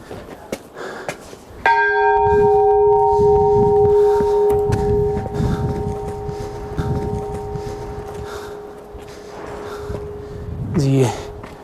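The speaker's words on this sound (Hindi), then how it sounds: "यहाँ पे एक बड़ा सा घंटा लगा हुआ है मंदिर में।" A large temple bell at Ghantakarna temple near Pandukeshwar is struck once, loud and close, and its long metallic hum decays slowly over several seconds. Footsteps and faint movement sound around it, and a second strike comes at the end.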